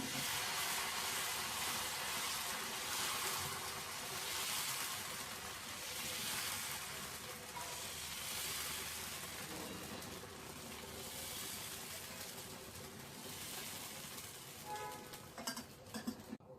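Pesarattu, a green gram dosa batter, hisses and sizzles continuously on a hot pan over a stove flame, a steady soft frying hiss with faint scraping near the end and no talk.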